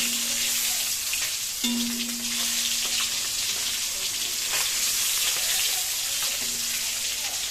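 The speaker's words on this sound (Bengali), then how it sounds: "আর এদিকে আমরা আগে ডিমটা খুব সুন্দর করে ফ্রাই করে নিচ্ছি" An egg frying in a pan gives a steady bright sizzle with occasional crackles and pops, close and continuous, with a faint low hum underneath.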